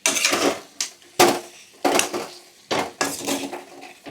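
A spoon scraping and knocking against a pan while paneer curry is stirred to keep it from sticking, a series of sharp metallic strokes roughly every half second, close and loud with no talk.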